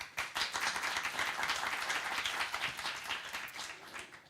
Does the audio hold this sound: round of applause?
yes